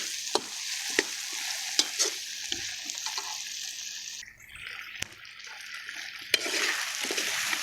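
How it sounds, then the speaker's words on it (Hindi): Potatoes sizzle in a kadai with intermittent scraping and stirring knocks from a utensil, close and fairly steady. "ये देखें, ये आलू भून चुके हैं।"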